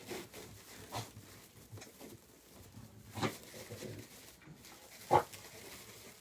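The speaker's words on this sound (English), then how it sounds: "Sorry, the dog is gagging, I apologize." A dog gags indoors, producing a few rough, throaty bursts scattered over several seconds, mostly faint and with one sharper, louder heave near the end.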